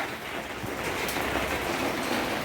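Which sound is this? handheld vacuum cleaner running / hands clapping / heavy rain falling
heavy rain falling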